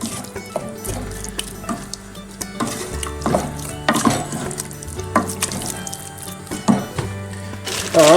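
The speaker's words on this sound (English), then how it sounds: "Give that a stir." Minced meat stirred in a hot pan for a test-kitchen mince dish, a steady close sizzle broken by scraping and clattering strokes of a utensil, with no talk over it.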